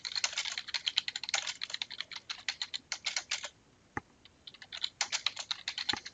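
Rapid bursts of computer keyboard typing, close and clear, with crisp key clicks in quick runs, a brief pause midway, then more keystrokes and a couple of heavier taps.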